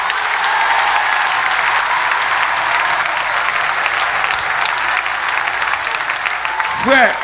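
A church congregation applauds during a prayer service, the clapping loud and continuous as a dense crowd wash. Voices mix in underneath, and a brief rising tonal sweep comes near the end.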